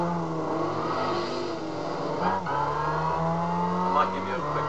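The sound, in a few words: race car engine lapping in Gran Turismo 5 video game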